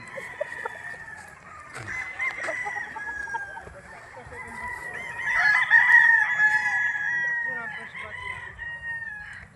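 A full stag rooster crows a long, drawn-out call on a farm in Tagaytay City, with softer clucking from other fowl nearby and a faint murmur of background activity.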